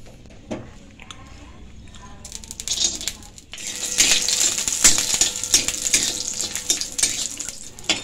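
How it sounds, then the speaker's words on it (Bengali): Bori lentil dumplings frying in hot mustard oil in a kadai, a quiet start of light crackle that swells into a loud, steady sizzle with scattered pops and rattles, close by. "বড়িগুলো প্রথমে আমি ভেজে নিচ্ছি।"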